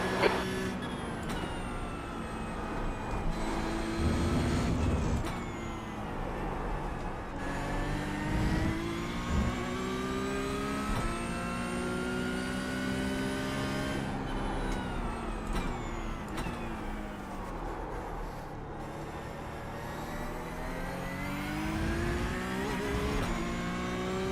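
Porsche Cup race car in iRacing at Suzuka, engine revving up and down through gear changes in a continuous close drone with rising and falling pitch sweeps.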